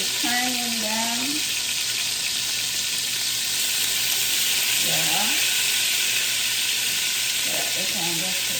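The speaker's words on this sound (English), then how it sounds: "We can get it brown on the other side, sealing in the flavor" Jamaican oxtail browning in a hot pan, a dense constant sizzle running throughout with occasional brief voices or clinks from the kitchen over it.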